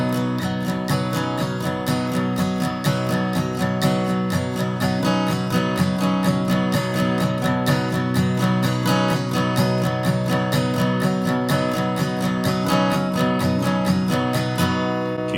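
An acoustic guitar plays a steady, driving rhythm with hammer-ons, imitating the keyboard part of a song. The pattern repeats evenly for about fifteen seconds, with no voices over it.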